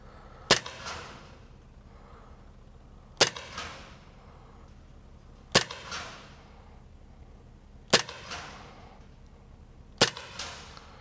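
Five sharp, snappy shots from a Sig Sauer 1911 Spartan CO2 BB air pistol spaced a couple of seconds apart, each a crisp crack with a short ringing tail in a small enclosed space.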